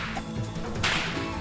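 A single sharp whip crack, the tip's sonic boom, snaps out midway over a low, busy background rumble.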